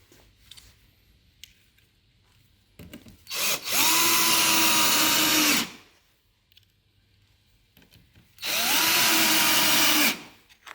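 A power screwdriver drives small screws into a hinge on a bookcase door during assembly, two sustained whirring bursts of about two seconds each, loud and close, separated by quieter handling noise.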